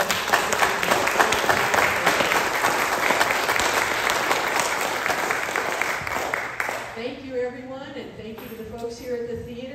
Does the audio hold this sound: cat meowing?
no